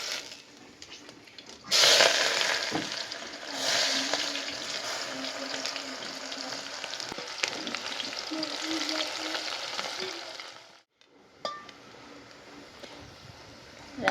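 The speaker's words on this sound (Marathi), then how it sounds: "तेल चांगलं गरम झालं आता मी खडा मसाला टाकला की लगेच आपला कांदा टाकणार आहे" Whole spices and onion hit hot oil over a wood-fired hearth for a village-style chicken biryani, a loud steady sizzle and crackle that flares up sharply, runs continuously, then briefly drops out before resuming.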